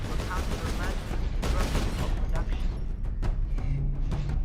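Rapid bursts of heavy gunfire and booming shots in Warhammer 40,000: Space Marine, dense and loud, with voices speaking over the combat.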